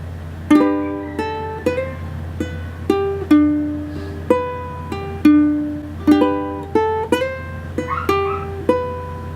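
Fingerstyle ukulele playing a steady run of plucked notes and small chords with clear attacks that ring briefly and decay, heard close and alone.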